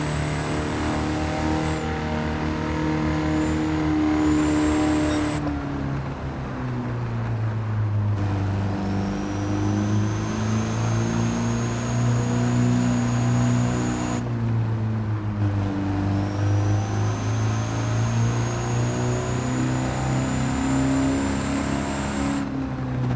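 A Mercedes Unimog truck in Gran Turismo 7 drones through long, steady engine pulls, revs climbing and falling with each gear change, loud and continuous with no talk.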